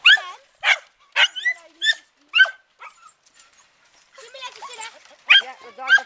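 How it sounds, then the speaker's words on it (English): A dog barks in sharp, loud bursts near a chicken coop on a rural walk among olive trees, about six barks in an even rhythm, then people talk over a few fainter barks. "And her dog, which is barking."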